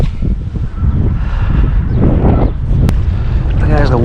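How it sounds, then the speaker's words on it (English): Strong wind blowing at a pond during a fishing outing, a loud continuous rumbling buffet across the microphone with a brief voice-like sound near the end. "the wind's only been getting stronger since I started"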